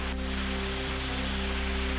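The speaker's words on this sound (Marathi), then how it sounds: "गोंदिया जिल्ह्यात मुसळधार पाऊस." Heavy rain falls steadily in Gondia district, a dense, even hiss of downpour that holds for the whole two seconds with a low electrical hum underneath and no talking.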